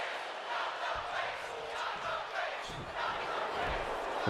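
Crowd chanting in a wrestling video game match between Gunter and Tyler Breeze, a dense roar of many voices with rhythmic swells, some distant thuds underneath.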